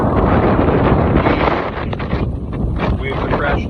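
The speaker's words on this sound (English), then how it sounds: "So it is windy as hell, probably about 40-50 mile an hour gust if I had to guess" Strong Hurricane Idalia gusts on flooded Bayshore Boulevard in Tampa, Florida, roaring and buffeting the microphone as a loud, continuous rumbling wind noise with surging pulses, under faint talk.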